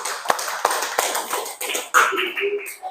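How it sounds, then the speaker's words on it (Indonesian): Applause from students in a classroom for group 5, a few sharp claps then a burst of hand clapping, close and moderately loud with some shuffling. "Kasih aplaus dulu kelompok 5."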